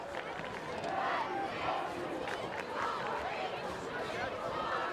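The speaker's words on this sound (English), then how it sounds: "You can hear that Marshfield crowd into it as always as the offense for the Rams take the field once again." Home crowd at a varsity high school football game in Marshfield, a continuous roar of cheering and shouting voices filling the stands as the offense takes the field, steady and loud throughout.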